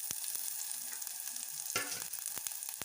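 Cumin seeds and chopped garlic fry in a pan with a steady close sizzle, punctuated by a few sharp crackles and a brief stirring burst partway through.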